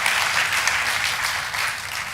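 Congregation applauding loudly at a church worship service in Indonesia, dense broadband clapping held steady and close throughout, with no voices rising above it.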